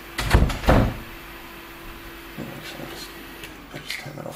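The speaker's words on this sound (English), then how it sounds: "I'll close this door now so you can get a bit of darkness." An indoor door is pushed shut in a workshop, giving two close, heavy thuds in quick succession, followed by quieter handling clatter and a low steady hum.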